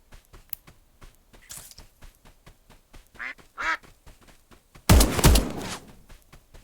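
A duck in the video game Escape from Duckov quacks several times amid a rapid clicking patter of game sounds, then a loud burst of gunfire erupts near the end.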